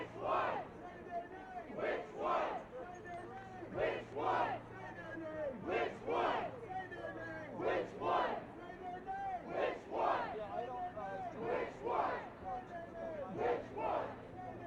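A nighttime protest crowd in Detroit chants in loud rhythmic bursts, the shouts rising and falling in regular waves about every second, close and continuous throughout.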